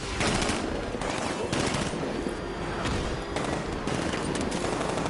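Sustained automatic gunfire in a Batman video game, dense rapid bursts rattling continuously across the whole stretch with brief swells in intensity and no clear pauses.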